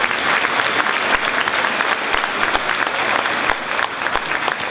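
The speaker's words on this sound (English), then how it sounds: "one more round of applause for Lieutenant Colonel Cruz" Sustained applause from an audience at a school military opportunities day, loud dense clapping from a crowd, steady throughout with no speech over it.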